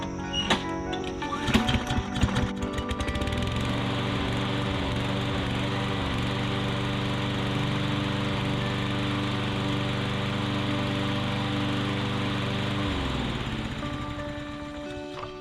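A lawn mower engine, just repaired for a fuel flow problem, fires up after a few uneven bursts, runs at a steady high drone close by, then cuts out and winds down near the end.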